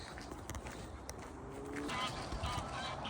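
Canada geese honk faintly overhead amid steady outdoor noise and wind on a walk from Rushden to Irthlingborough, a few calls rising over the rumble.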